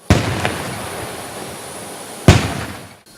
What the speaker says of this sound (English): given a 19-gun salute farewell